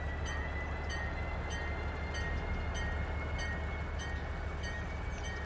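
A train in the city-building game Cities: Skylines rumbles steadily as it sits stuck on the tracks, with a continuous low drone and faint periodic clicks throughout, loud and alone.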